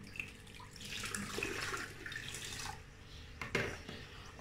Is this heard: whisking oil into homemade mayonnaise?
no